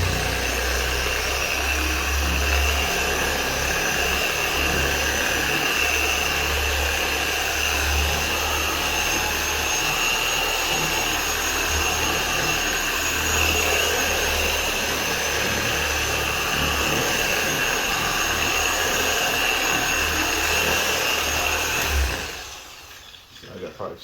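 Steady whirring drone of a dual-action machine polisher on low speed spreading product across the hood of a 2022 Volkswagen Atlas Cross Sport, holding one continuous level for over twenty seconds before cutting off near the end.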